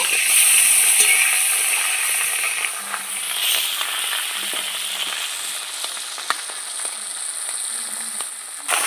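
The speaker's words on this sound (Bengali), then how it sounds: "কড়াইয়ের তেল গরম হয়ে গেছে ট্যাংরা মাছগুলো ভেজে নেব" Tangra fish frying in hot oil in a wok, a loud continuous close crackling sizzle with occasional sharper pops, running steadily without talk.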